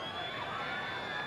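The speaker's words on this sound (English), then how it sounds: "Siren sounds now, and that is the end of the first 40 minutes." Stadium siren at a 1996 rugby league match between the Tigers and the Eels, marking half-time with a steady high tone over crowd noise, short and continuous.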